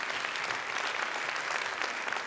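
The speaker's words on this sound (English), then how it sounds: "I want to give a very big applause to all of them and to all of you" Audience applause at a summit hall in Lyon, a steady wash of many hands clapping, moderately distant and even throughout the short stretch, with no talking over it.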